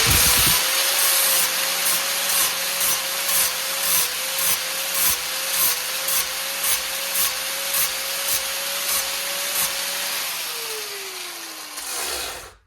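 A power grinder bevels the edge of a metal pipe for an RC car cage, running steadily for about ten seconds with rhythmic pulsing as it bites the metal, then spinning down and stopping.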